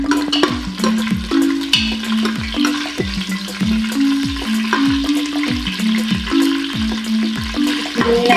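Kasuri methi and green chillies frying in hot oil, a loud continuous sizzle with repeated rhythmic scraping of a spoon stirring the pan, no talking.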